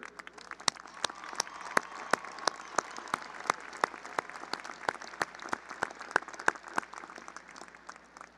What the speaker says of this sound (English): Please join me in a round of applause for these dedicated faculty members